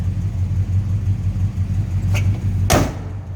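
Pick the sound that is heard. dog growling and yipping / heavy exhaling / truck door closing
truck door closing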